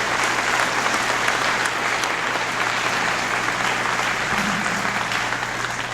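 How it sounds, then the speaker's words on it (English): At a USS Thresher memorial service, an assembled audience gives a sustained round of applause for a commander standing to be recognized, with steady clapping and a low hum underneath. "Everybody, a round of applause"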